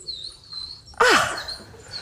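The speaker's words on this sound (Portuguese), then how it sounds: "Passarinhos temos também." Small birds chirping in a monastery setting at Arouca, Portugal: faint thin high tweets, then one loud, close, sharp downward chirp burst midway, followed by scattered softer calls, with no voices.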